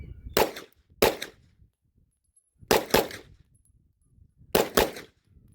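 Four sharp shots from an HK P30L LEM 9mm full-size pistol fired outdoors on a training range, arriving as two quick pairs of loud, crisp reports with silent gaps between.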